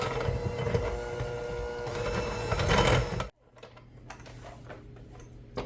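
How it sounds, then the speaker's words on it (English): An electric mixer whirs steadily and loudly while beating applesauce cake batter, then switches off abruptly, leaving quieter kitchen clinks and taps. "then once I start getting it all incorporated, then I'll turn the mixer up and let it go for just a minute"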